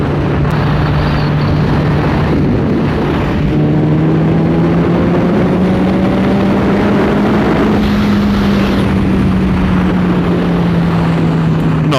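A motorcycle accelerates in fifth gear. Its engine holds one steady, loud drone whose pitch climbs gradually and then eases off, with constant wind roar around it.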